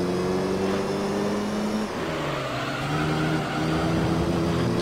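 A Honda S2000 race car engine in Gran Turismo 3 drones loudly and continuously, its pitch shifting through gear changes while other race cars run alongside, with no talk.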